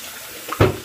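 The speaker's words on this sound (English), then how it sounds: "cold or warm water rinse followed by cold." Short splash of tap water rinsing after a shave, a quiet running trickle that bursts into a louder splash near the end.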